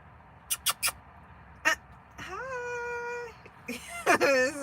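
A gray cat sitting outdoors gives a long, drawn-out meow and then a shorter, rising one, fairly close and clear, after a few sharp clicks, with no talking.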